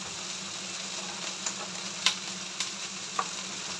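Stirring a homemade vinaigrette in a small salad bowl: quiet, steady scraping and swishing with a few light clinks of utensil against the bowl, close up and with no talking.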